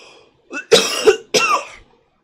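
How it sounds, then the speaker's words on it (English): A person coughs in a few harsh, rough bursts, close and fairly loud, with a brief pause between the hacking fits and quiet before and after. "I cannot stop coughing."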